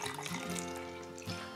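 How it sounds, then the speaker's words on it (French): Tap water running into a container while making homemade spray paint: a steady, close rush of flowing water with a faint ringing, sustained throughout without talk. "ensuite je viens rajouter de l'eau"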